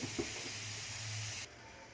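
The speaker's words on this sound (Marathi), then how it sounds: "आता कुकरची वाफ गेलेली आहे" A steady, close hiss of steam escaping from a pressure cooker of moong dal runs loudly, then cuts off abruptly, leaving a quieter background.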